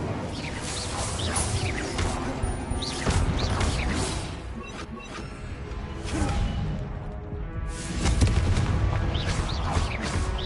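An Incendio fire spell is cast in Hogwarts Legacy with loud, crackling whooshes and heavy bursts of flame and impact layered over a continuous rumbling battle din, with no speech.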